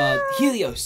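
A person's voice imitates a cat's meow with a drawn-out, wavering mewing cry that rises and falls, close and clear, during a tabletop role-playing game session, with a spoken word slipped in.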